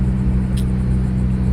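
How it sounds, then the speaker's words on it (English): Honda Accord cruising on the road, heard from inside the cabin as a steady low engine and road rumble with a constant drone and no talking. "So we're cruising, guys. We're in the Accord."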